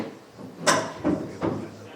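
A door closes during a lecture, giving a sharp thump followed by two softer knocks, close by, with a faint room murmur underneath.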